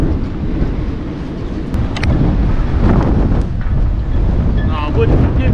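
A steady gust of wind buffets the microphone aboard a sailboat while a crew member hauls on a boat line, with faint creaks and water movement underneath the roar.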